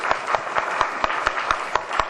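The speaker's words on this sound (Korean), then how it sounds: "교수님, 환영의 박수 해주시기 바랍니다." An audience at a filial-piety instructors' association seminar gives a welcoming round of applause for a professor, a rhythmic clapping of fairly regular beats about every quarter second over a softer bed of scattered claps.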